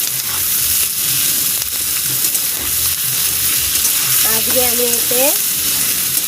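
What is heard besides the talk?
onion, tomato, potato and chilli frying in pan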